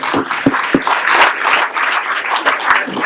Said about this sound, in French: On peut les applaudir encore très très fort.